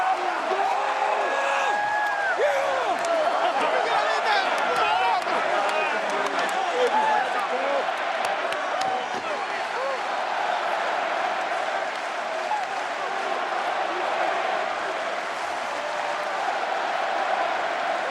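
Baseball crowd at a 2010 World Series game in Arlington stadium, cheering and applauding steadily for the whole stretch in a dense, roaring wash of claps and shouts.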